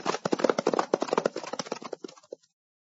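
Rapid drumming hoofbeats of pinto horses galloping close by, loud and dense at first, then thinning out and fading as they move away.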